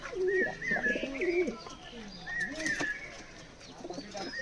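Kalduma pigeons in a collection coo repeatedly at close range, with low throaty rolling coos overlapping and some lighter chirps in between.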